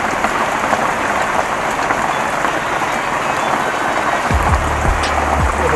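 Steady rain falling outdoors, a dense even hiss of drops on surfaces throughout, with a few low rumbling thumps near the end.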